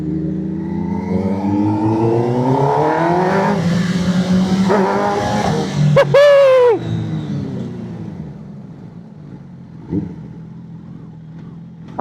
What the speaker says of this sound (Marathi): तुम्ही आवाज ऐकू शकता. आता बाईक स्पोर्ट्स मोडला लावली आपण.